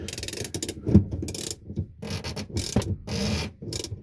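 A ratchet works on 14 mm wheel nuts, clicking in quick bursts of rapid pawl ticks separated by short pauses, close and fairly loud, with no voices.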